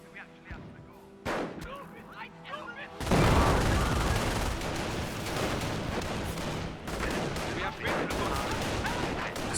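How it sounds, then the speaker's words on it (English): A sniper rifle squad in Company of Heroes fires sharp, spaced rifle shots over the distant clatter of a battlefield, then dense, continuous gunfire and blasts take over. "Scope rifle squad firing away."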